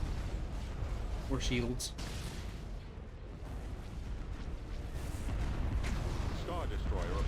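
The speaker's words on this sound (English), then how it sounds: "All batteries commence firing." Heavy capital ship batteries fire in a Star Wars space battle from Empire at War: Thrawn's Revenge, a dense, continuous rumble of distant booms and blasts, with brief radio-style voices and chatter over it.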